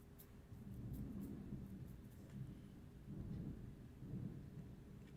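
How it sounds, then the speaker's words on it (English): Low, rolling rumble of distant thunder building in long swells across the whole stretch, with a steady hiss of rain underneath and no talk. "You guys hear that thunder?"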